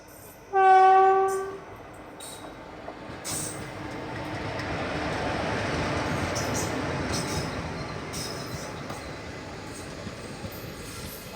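An Aurangabad Guntur Express train sounds a loud horn blast near the start, then passes with a steady rumble and clatter of railcars that swells and fades.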